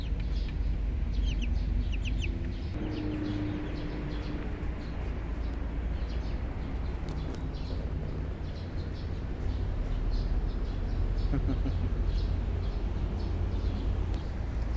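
Chickens and 25-day-old chicks cluck and peep steadily in a farmyard, several birds calling over a constant rough outdoor background with no one speaking.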